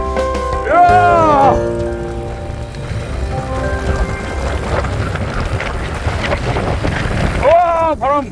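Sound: wind blowing while mountain biking

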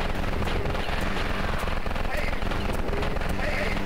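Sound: chain gun firing in the video game Eisenfaust: Origins

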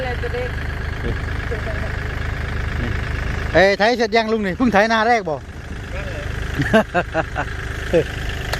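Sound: Kubota tractor engine running

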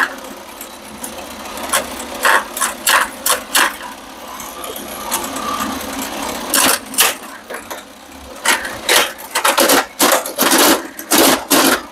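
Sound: noisy mechanism of a vintage Tomy Astro Shooter pinball toy

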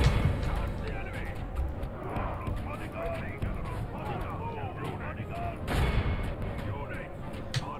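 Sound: gunfire and artillery in the video game Medieval II: Total War

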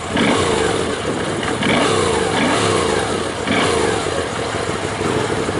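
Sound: Moto Guzzi V7 II Racer motorcycle engine starting and revving

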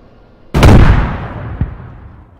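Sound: claymore explosion in a video game

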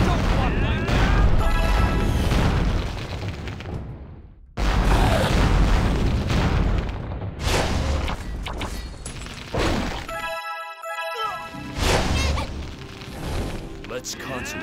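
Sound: artillery bombardment in a video game (Atlantica)

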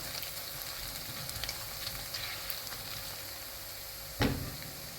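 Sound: ingredients sautéing in a pan

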